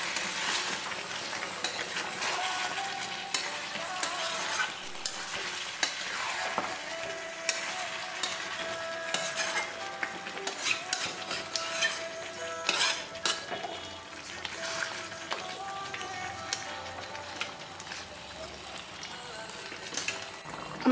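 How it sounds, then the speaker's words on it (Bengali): Coriander chicken being stirred and sautéed in a pan, a steady sizzle with repeated scraping and clinking of a utensil against the pan running throughout, close and moderately loud, with no talk. "এখন আমি অল্প অল্প জল দিয়ে সেদ্ধ করবো, মানে কষতে কষতে আমি সেদ্ধ করবো"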